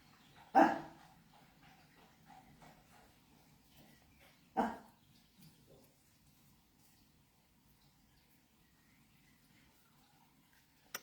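Two sharp dog barks from one of a household's four dogs ring out a few seconds apart, fairly close and loud over a quiet room, with a faint tap at the end.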